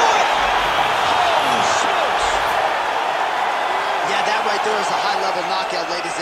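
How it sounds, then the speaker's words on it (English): A dense, continuous crowd roar with cheering rises from the arena of a UFC video game fight, loud and steady throughout, with an announcer talking over it. "Crowd absolutely loving it."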